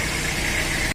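A car engine runs steadily with a rough, buzzing drone, loud and close, cutting off abruptly at the end.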